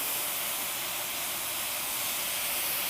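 Liquid hits a hot pan of browned tofu and sets off a loud, steady sizzle that holds an even, dense hiss from start to finish, with no voices over it.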